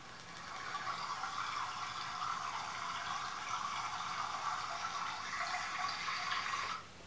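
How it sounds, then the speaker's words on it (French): A small river from a sleep sounds app flows as a steady, soft rush of water, even and continuous with no voices, ending abruptly. "Donc par exemple là c'est une petite rivière."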